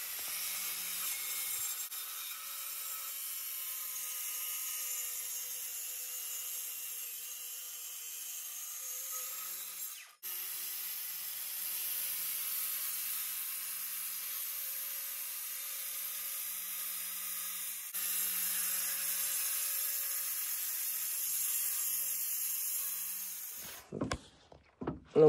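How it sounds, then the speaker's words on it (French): A Bosch GKT 18V-52 GC cordless plunge circular saw runs in a long continuous cut through wooden decking boards, a steady high whine with a brief break midway and a clunk at the end. "j'ai coupé 3 mètres de terrasse en IP"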